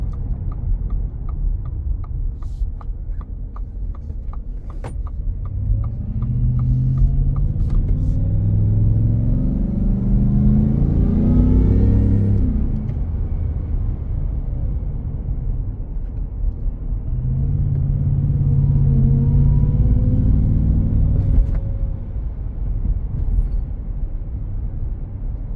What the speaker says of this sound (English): The truck sounds amazing, shifts nice and smooth.